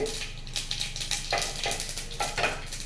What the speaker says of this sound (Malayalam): നമ്മുടെ കടുകൊക്കെ നല്ലോണം പൊട്ടി വന്നിട്ടുണ്ട്